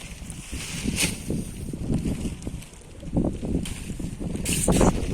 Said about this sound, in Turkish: rüzgar var arkadaşlar